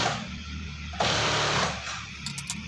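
Sewing machine stitching a padded seat cover, a steady mechanical whir running throughout with a louder burst midway and a few light clicks near the end.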